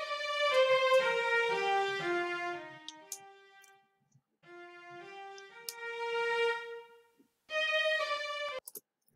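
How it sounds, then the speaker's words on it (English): Synthesized string section added to a music production, sustained bowed-style chords and melodic phrases playing in separate passages with short gaps of silence between them. "now I'm gonna add some strings"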